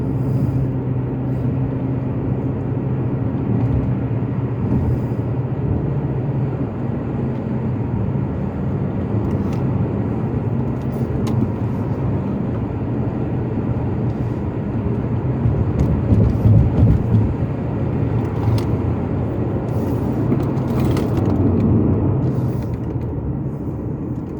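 A Mercedes CL500 cruises down narrow country lanes, heard from inside as a steady low engine and road drone with tyre rumble that swells slightly midway, with no talking.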